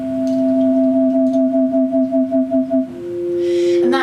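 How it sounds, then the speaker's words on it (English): A sustained synth pad holds a bright tone that begins to chop on and off in a regular square-wave pulse, then shifts to a new note. "I have this pretty pad sound with, it's a pretty dramatic square wave LFO."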